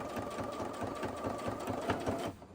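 A sewing machine runs steadily while stitching quilt sashing, a close rhythmic mechanical chatter that stops near the end.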